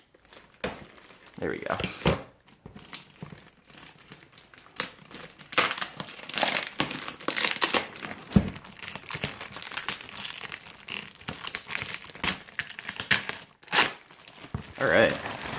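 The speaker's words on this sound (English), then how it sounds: "Let's see if I can get this open without having to use the knife, because I don't want to damage the box." A Resident Evil 2 collector's edition box is pried open by hand: irregular bursts of crinkling plastic, tearing tape and cardboard rustling, close and fairly loud, with someone talking briefly in between.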